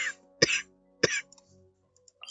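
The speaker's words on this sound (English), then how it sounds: "My cough is bad." A person coughs twice in sharp, close bursts about half a second apart, followed by faint small throat noises, with no talking.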